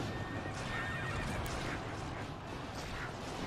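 A horse in the Kessen 2 video game gives a loud whinny amid a dense battle din of rumbling and clatter, with faint hoof clip-clop mixed into the busy, continuous game soundscape.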